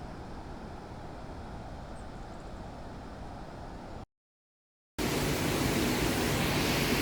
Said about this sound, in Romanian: E superbă cascada.